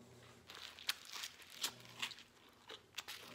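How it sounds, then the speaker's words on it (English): Crisp crunches from a French bulldog biting and chewing food, a handful of sharp bursts spaced irregularly over a few seconds, fairly quiet and close with no talking. "I don't know if you can hear the crunch."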